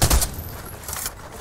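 Rifle gunfire in the video game Fortnite, a few sharp shots with a strong burst near the start and fainter cracks later, set against steady background game noise.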